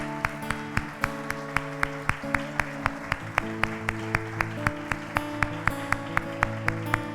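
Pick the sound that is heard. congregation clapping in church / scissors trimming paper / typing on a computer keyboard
congregation clapping in church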